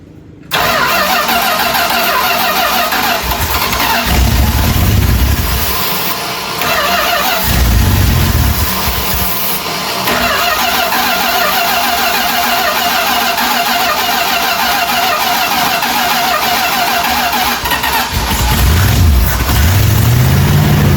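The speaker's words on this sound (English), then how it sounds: "Go ahead and crank it again." A 1978 Dodge D150 truck engine cranks repeatedly with rhythmic starter churning, catches and revs in bursts, then cranks again; loud and close with no talk.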